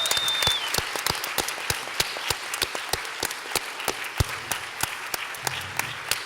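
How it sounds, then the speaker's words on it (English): A crowd at a school board meeting claps for a school marching band, sharp distinct hand claps ringing out at a brisk, fairly regular rhythm, with a brief whistle at the start. "Let's give them a round of applause,"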